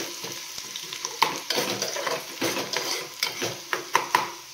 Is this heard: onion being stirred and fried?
yes